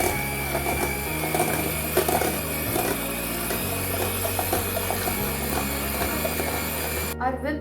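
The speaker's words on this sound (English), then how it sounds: "Now we'll whisk the butter. I'm using electric whisker." Electric whisk whipping butter in a bowl, a steady loud mechanical whir with rhythmic shifts in pitch as the beaters work, running throughout and cutting off just before the end.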